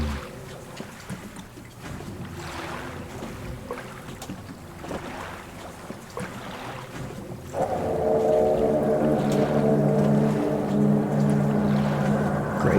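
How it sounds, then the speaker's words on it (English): Boat on the water in the Silent Hill 2 video game: creaks and water lapping over low wind, then a louder sustained droning hum that sets in partway through and holds steady to the end, with no voices. "Good sound effects on that boat."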